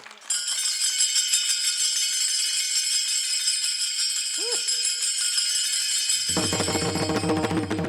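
Taal hand cymbals at a kirtan in Tandulwadi ring in a loud, continuous metallic jingle close by; near the end, lower voices singing along join the cymbals.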